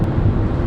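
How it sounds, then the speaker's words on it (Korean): Wind rushing past the A-pillar of a Hyundai Santa Fe 2.0 diesel Htrac while driving in a windy area, a steady low buffeting roar heard from inside the cabin, loud and unbroken. "A필러 쪽에서 바람 소리가 좀 많이 들리는 것 같아요"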